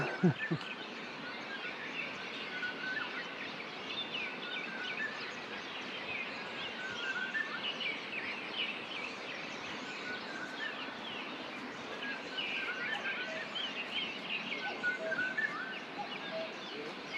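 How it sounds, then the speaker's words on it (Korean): Various wild birds keep up a long, steady dawn chorus on Yonggwolsan, a rocky mountain in Sunchang, Korea, with constant overlapping calls and trills at mid distance and no clear talk over it. "다양한 새들이 산다"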